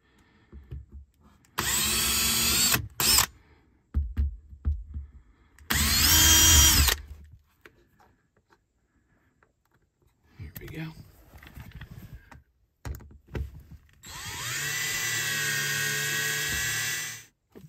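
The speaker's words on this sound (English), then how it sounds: "Just turned the ratcheting feature of this drill to its lowest setting" Power drill boring holes for a teardrop camper wall vent, with three loud whining bursts of a few seconds each separated by pauses, knocks and handling sounds.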